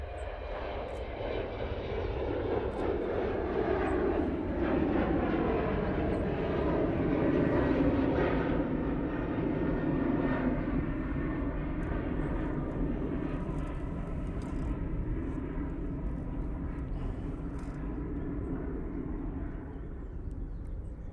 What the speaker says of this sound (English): And it's the SAS Embraer going off